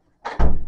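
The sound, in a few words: door being closed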